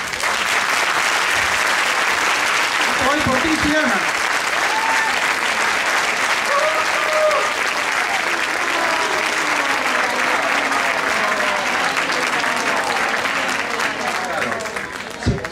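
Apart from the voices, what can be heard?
audience applause for Xiana at a charity gala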